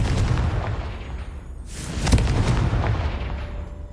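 A Confringo blasting spell exploding in the Hogwarts Legacy video game, a rumbling boom with a sharp burst midway, followed by a fading low roar.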